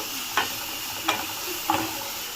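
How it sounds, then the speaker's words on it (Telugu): A spoon stirs masala pasta with vegetables and spices in a hot pan, giving three distinct scraping strokes spaced evenly over a soft, steady sizzle. "ఒకసారి మిక్స్ చేద్దాం"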